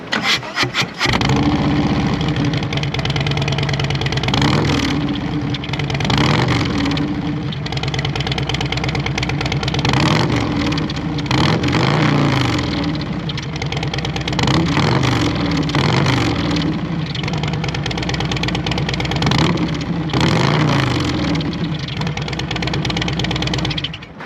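A 2024 Harley-Davidson Street Glide fitted with RCX slip-on mufflers rumbles loud and close, a deep throbbing idle broken by repeated throttle blips that swell and settle over and over.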